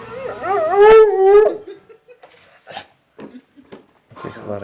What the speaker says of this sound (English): I hear all the pain and joy of the world kind of at once in Laddy's howl.